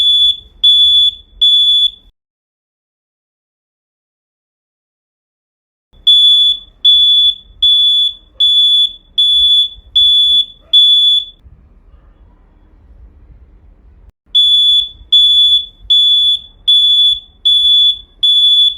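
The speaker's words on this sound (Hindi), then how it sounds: "अभी टेस्ट करते हैं हमारे सिक्योरिटी अलार्म को।" A homemade motion-sensor security alarm blares in three bursts of rapid, piercing electronic beeps, each a string of about six evenly spaced tones, separated by quiet gaps with faint handling noise.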